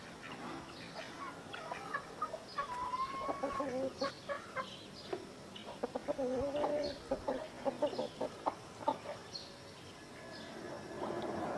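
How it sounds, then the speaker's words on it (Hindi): Aseel chickens and a rooster in a village setting, repeated clucks and short calls at an irregular pace, moderately close over a faint, steady outdoor background. "मुर्गा नीचे से बुलाने की कोशिश कर रहे हैं"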